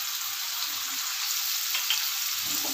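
Cumin and coriander powder frying in oil for a vegetable dal, a dense, even sizzle with faint stirring underneath, close and steady for a few seconds.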